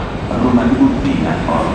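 A train bound for Venice rumbles steadily close by in Florence, Italy, a low continuous roar with a voice speaking over it.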